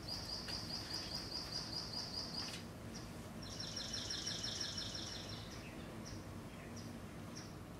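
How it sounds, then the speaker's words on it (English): A swamp sparrow sings in short bursts of rapid, evenly spaced trilled notes, two clear phrases separated by a brief pause, faint against a low background rumble, followed by scattered single chirps. "the swamp sparrow."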